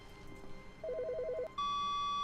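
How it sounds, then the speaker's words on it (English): An old-style phone rings in The Stanley Parable, a short warbling trill followed by a sustained electronic tone, fairly quiet against low background ambience. "Wait, there's a phone ringing."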